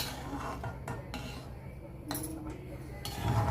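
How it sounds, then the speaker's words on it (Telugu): A spoon clinks and scrapes against a cooking pot as food is stirred after hot water is added, in irregular metallic taps and scrapes, close and moderately loud. "ఇప్పుడు వేసుకున్న తర్వాత అంతా ఒకసారి బాగా మిక్స్ చేయాలి మనం దీన్ని."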